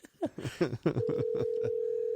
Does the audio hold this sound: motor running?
no